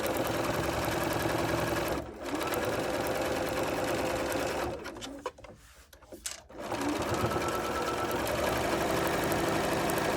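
A sewing machine set to a longer stitch length runs steadily along the edge of fabric for a thread catcher snap basket, pausing briefly around two seconds and again near the middle before resuming its close, even whirring hum.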